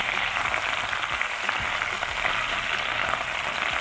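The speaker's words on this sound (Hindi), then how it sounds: "इसके अंदर हमने बीफ जो हाफ डन किया हुआ था उसको हम हल्का सा फ्राई कर लेंगे।" Half-done beef frying lightly in about three tablespoons of cooking oil in a pan, a steady, dense sizzle and crackle that holds evenly throughout with no voices.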